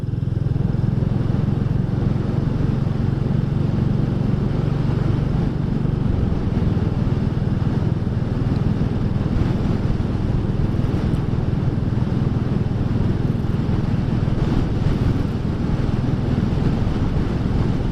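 Royal Enfield 350 Classic motorcycle (2022) ridden on the road, a continuous low engine drone heavily mixed with buffeting wind noise, steady and loud throughout with no talk.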